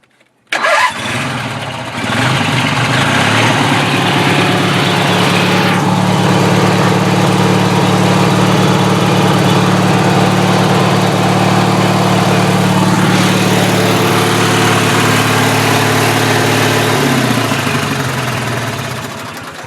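A Craftsman II GT6000 garden tractor with a cab and snowblower cranks and catches, then its engine runs loud and steady at idle for nearly twenty seconds, close by and alone.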